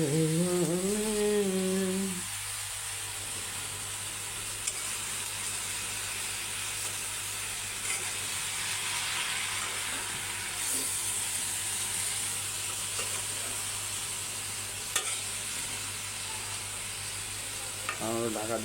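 Steady oily sizzling of bitter gourd frying in a pan, a continuous hiss throughout with a brief scrape of stirring near the start.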